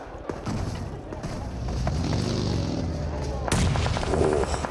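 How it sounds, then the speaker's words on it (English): Explosions from thrown grenades in a PUBG Mobile esports grand final match, a series of heavy booms and rumbling blasts with a sharp burst near the end, mixed with game noise and faint talk. "Nades on target."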